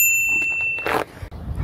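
A bicycle bell rings outdoors in a few bright, sustained tones at the start, fading out before a burst of noisy handling and movement.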